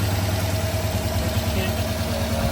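A car engine with a missing spark plug idles steadily at lower RPM and misfires less than before. Its low, continuous rumble carries a faint uneven pulse, and no one talks over it.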